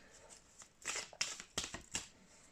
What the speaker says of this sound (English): I'm just going to shuffle here right now.